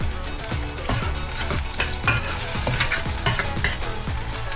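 Chunks of bagnet, crispy fried pork belly, sizzle in a hot pan while being stirred, a steady close frying hiss broken by rhythmic scraping strokes of a utensil.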